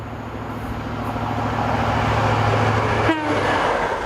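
A refurbished HST power car fitted with MTU engines runs with a steady, loud low diesel drone and harmonic hum throughout, with a brief sharp transient near the end.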